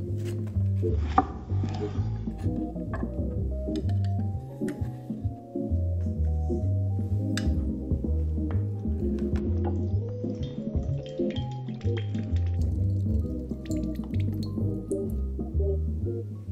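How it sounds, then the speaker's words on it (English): Fresh lemons are squeezed by hand for juice, with wet squishing, dripping and rubbing in an uneven rhythm, close up, over a steady low hum. "We'll start by squeezing 300 ml, or 10 ounces, of lemon juice."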